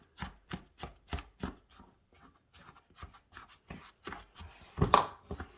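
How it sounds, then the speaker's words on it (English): A spoon mixes butter crumbles into an eggless fig and ginger brown sugar cake batter in a bowl, with a string of sharp, evenly spaced knocks and scrapes up close, ending in a louder clatter. "Take my spoon, give this a good"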